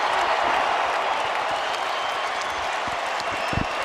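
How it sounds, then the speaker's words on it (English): A basketball arena crowd on its feet during a Lakers game, a broad roaring wash of cheering and clapping that holds steadily throughout. "This entire crowd on its feet"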